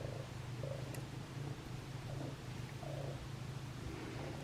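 A domestic cat purrs softly and very close, a low rhythmic rumble pulsing steadily in quiet surroundings with no other sounds.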